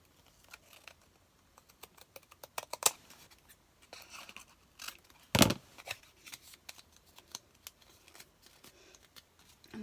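Scissors snip around the edge of a paper doily for a small craft card, a run of quiet, irregular close cuts and crisp paper rustles with a sharper rustle midway.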